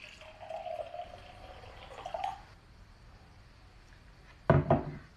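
Water poured into a container, a thin trickling stream for about two seconds, then quiet, followed by a short clatter near the end.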